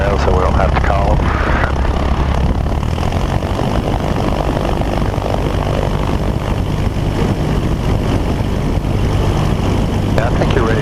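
Diamond DA20 light aircraft with its propeller engine running steadily at low taxi power, a constant loud drone filling the whole stretch, with talk over the cockpit noise.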